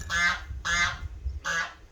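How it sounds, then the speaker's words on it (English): Geese honking outdoors: three loud, nasal honks spaced about half a second apart, fairly close, with faint background noise between calls. "The geese seem to be agreeing with me."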